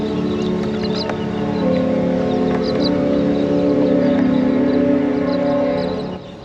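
The paddle steamer Murray River Princess sounds a long, loud, steady horn blast on the river, signalling to ferries, sustained for several seconds with faint wind and background noise.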